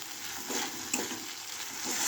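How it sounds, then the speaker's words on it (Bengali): Potato, pointed gourd and egg curry with garlic is stir-fried in a pan, giving a soft, steady sizzle with faint scraping stirs, close and quiet, no talking. "একটু ভালো করে কষে নিই"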